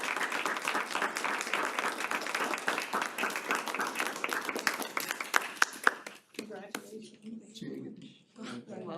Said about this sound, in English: how about a big round of applause? Come on, have applause.